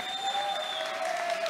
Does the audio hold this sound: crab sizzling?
no